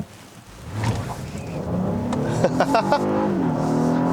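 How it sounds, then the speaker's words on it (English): A Honda V6 in a 2019 Honda Passport revs up with a rising VTEC snarl, the harmonics climbing as it accelerates, loud and close with steady road noise underneath. "Listen to that VTEC snarl with this V6."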